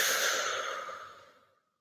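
A slow meditative breath released through the mouth, one long breathy airy exhale close to the microphone that fades steadily to silence.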